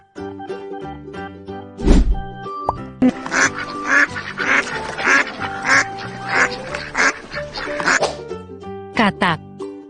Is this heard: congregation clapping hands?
no